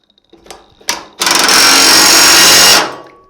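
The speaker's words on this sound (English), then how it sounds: "We're going to go ahead and reinstall this good nut carefully so we don't do any cross threading." Power tool spinning a nut back onto a blade, preceded by a few light clicks and handling knocks, then a loud, close, sustained whir that runs about a second and a half before cutting off.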